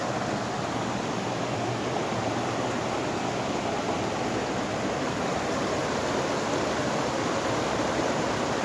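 Steady broadband rush of river water flowing outdoors, a continuous near wash with no pauses and no voices.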